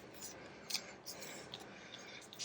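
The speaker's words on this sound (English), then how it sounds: "I'm going to cut a little bit more of that off just because it's too long." Scissors snip through lace trim in a quiet crafting setting, a few soft, short cuts spaced apart against faint background hiss.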